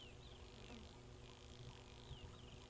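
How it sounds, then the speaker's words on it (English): Very faint, steady insect drone of a spider hunting wasp on a sunset safari drive, a thin continuous buzz hanging over low background rumble, with no talk during it. "the loud drone of a spider hunting wasp."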